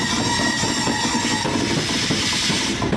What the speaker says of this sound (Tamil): விவேக் எக்ஸ்பிரஸ் கன்னியாகுமரி டு திபுர்கா வரைக்கும் போகக்கூடிய நமக்கு லாங்கஸ்ட் வண்டி.